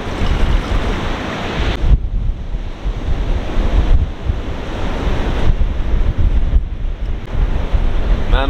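Ocean surf rolls onto a beach in steady repeated washes, loud and close, with gusty wind buffeting the microphone throughout and no voices.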